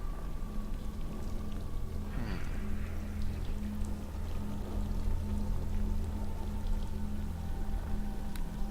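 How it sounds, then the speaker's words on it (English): In the Neverwinter Nights game, a token sinks into a glowing pool of water, with a rising watery sweep followed by a continuous, soft bubbling and gurgling that stays steady throughout. "As the token sinks into the water, it dissolves and the pool begins to glow and bubble softly"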